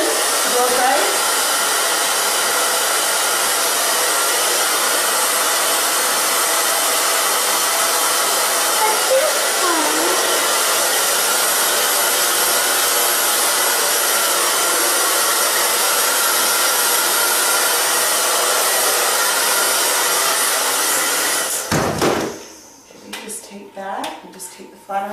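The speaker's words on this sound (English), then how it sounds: "then I'm going to just take another little section to blow dry" A hair dryer blows a section of hair during a home bang trim, roaring loudly and steadily at close range for about twenty seconds. It then shuts off, leaving a few light handling clatters.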